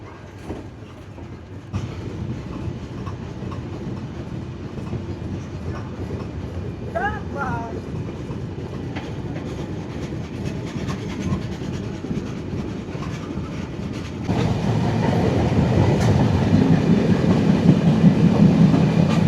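A passenger train runs on after leaving Narail station in Bangladesh, a steady close rumble of wheels and carriage noise that grows louder and heavier toward the end, with a brief high squeal partway through.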